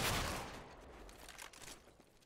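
A burst of rapid gunfire from the video game CS:GO at a pro match, loud at the start and fading through scattered shots over a couple of seconds.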